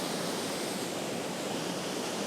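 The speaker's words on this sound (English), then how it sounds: "Another waterfall" Steady, dense rush of a waterfall seen from a viewing platform on a sunny day, a broad continuous roar of falling water with no pauses or voices.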